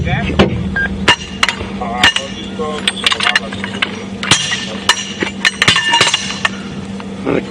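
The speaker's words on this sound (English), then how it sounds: "When I loosen the bolts, or tighten the bolts rather." Bolts are tightened on a safari vehicle during a game drive, producing close metallic clinks and taps scattered irregularly throughout while people talk nearby.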